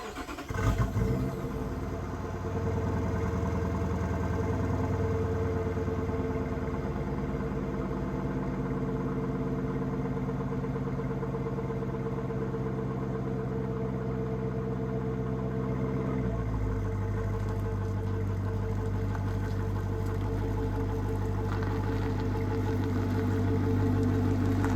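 A 2016 Dodge Charger Pursuit engine runs at a low, steady hum during a drive, with the pitch dropping noticeably about two-thirds through as the car shifts or slows, heard close and without talk.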